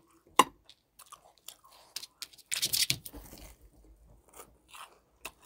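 A small dog eating tteokbokki and fried food on a bed, with irregular crunching and chewing bites close by, one sharp crunch early and a louder burst of munching midway, otherwise quiet.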